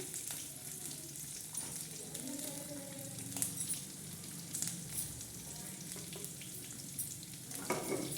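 Red chillies and onions frying in oil, a steady close sizzle with soft stirring and occasional spatula knocks, no voices.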